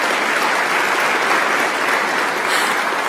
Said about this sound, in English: I should invite everybody to give you a round of applause